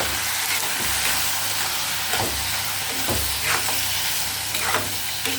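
Masala and capsicum fry in a pan with a loud, constant sizzle, broken by repeated scraping stirs of a spatula at close range.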